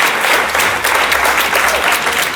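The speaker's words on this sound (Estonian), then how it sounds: "Daamid ja härrad, teeme suure aplausi" Studio audience at an Estonian TV dating show gives loud, sustained applause, a dense and even wash of many hands clapping close by from start to finish.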